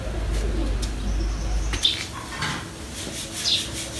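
Breeder pigeons kept in a store-like veranda of a Punjab village home coo softly in the background, with faint chirps and a brief flutter over a steady low rumble.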